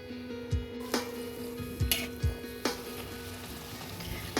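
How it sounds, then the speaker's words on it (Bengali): Luchi frying in hot oil give a steady, close sizzle with soft crackles and a few sharper pops scattered through, and no one speaks. "এদিকে লুচির তেল গরম হচ্ছে দেখুন বন্ধুরা লুচিও ভাজা শুরু করে দিয়েছি"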